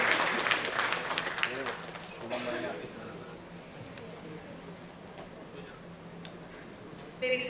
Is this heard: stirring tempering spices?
no